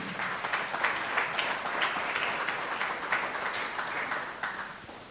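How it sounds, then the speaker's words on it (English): A conference audience at an economic impact event gives a round of applause: a steady wash of many hands clapping, moderately distant and fairly soft, lasting throughout without any voices. "So give yourself a round of applause and thank you for being here."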